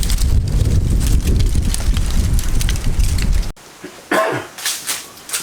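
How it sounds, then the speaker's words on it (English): Strong wind buffets a garden with a greenhouse and chicken coop, roaring in a dense, gusty wash that cuts off abruptly, leaving a few brief, fainter gusts. "Wind is just crazy today."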